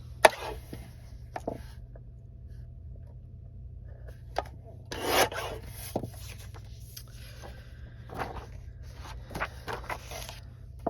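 Intermittent rasping snips and scraping of scissors cutting stiff card paper, scattered short bursts over quiet background, close up.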